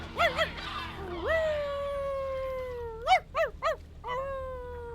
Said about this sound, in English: Is he a cat?